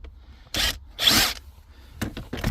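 Torx 20 screws being unscrewed by hand from the center console of a Ford Fiesta MK8, giving a few short scraping, rubbing bursts with quiet gaps and a couple of quick clicks near the end.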